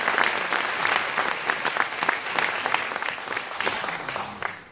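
An audience at a local festival event applauds a teacher colleague. Sustained, lively clapping rolls on for several seconds with sharp individual claps standing out, then thins toward the end.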